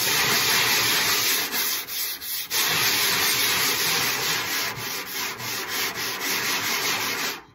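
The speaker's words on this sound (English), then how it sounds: "you're roughing the surface up enough that it will receive the paint" A drum head being lightly sanded to rough up its surface before painting, with steady, close scratchy rubbing strokes, briefly pausing once and ending with a series of rhythmic back-and-forth passes.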